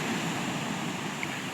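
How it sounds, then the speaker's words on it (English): Big ocean waves crash against a rocky shore on a coastline, a continuous loud roar of surf and wash filling the whole stretch with no voices. "just to see the waves crash on the shore"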